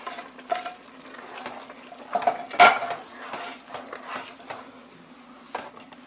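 Drained spaghetti noodles are stirred in a pot, soft wet scraping and clinks of a utensil against the metal with one louder clack, fairly quiet and close with no speech.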